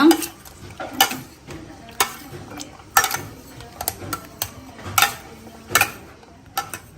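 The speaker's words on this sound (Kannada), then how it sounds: "ಇದನ್ನು ಸ್ವಲ್ಪ ನೋಡಿ ಈ ರೀತಿ ಮ್ಯಾಶ್ ಮಾಡೋಣ" Cooked vegetables for baji being mashed in a pot, with repeated dull knocks and scrapes of a utensil at roughly one-second intervals and a faint sizzle beneath, close and without talk.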